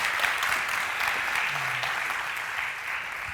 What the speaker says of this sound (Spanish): solo nos queda, pues bueno, darte un aplauso por habernos hecho esta explicación